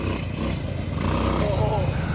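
A custom Honda ATC70 three-wheeler engine running close by, a steady buzzing drone that climbs slightly in the second half, with people talking over it.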